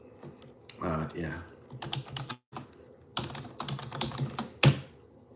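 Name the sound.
fast typing on a computer keyboard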